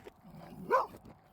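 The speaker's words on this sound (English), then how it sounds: "Here comes a dumb dog." A black Labrador barks once at mid distance outdoors on a walk, a single short bark rising out of faint background.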